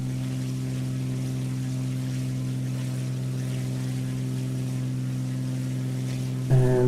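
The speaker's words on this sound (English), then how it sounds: "Let's just bring the engine noise down a little bit" A PA28 Piper Arrow III piston engine in Microsoft Flight Simulator 2020 drones at a steady cruise, a low even hum held throughout, with a brief brighter shift just before the end.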